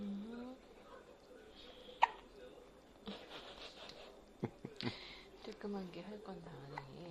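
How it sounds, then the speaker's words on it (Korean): A 10-day-old newborn baby hiccups in several short, faint bursts scattered through the clip, while adults talk quietly over them. "신선한 딸꾹질"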